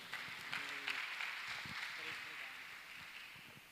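Audience at a Christian business conference applauds, a soft, dense patter of clapping heard faintly from a distance, blending into the room's ambience.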